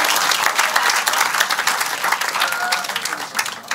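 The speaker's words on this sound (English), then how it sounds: "a wonderful applause to Lara Ricotte" Steady, full audience applause fills a hall before a talk, dense continuous clapping from many hands with a few brighter individual claps, loud and close throughout.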